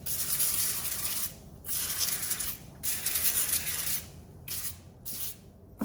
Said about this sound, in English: Now I'm going to spray them with olive oil